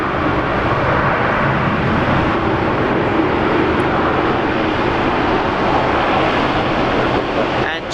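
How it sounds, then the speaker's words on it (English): Korean Air Boeing 787-9 Dreamliner at Brisbane Airport, a steady, loud broadband jet roar that holds evenly for the whole stretch without a break. "There we go, Korean Air 787-9 Dreamliner."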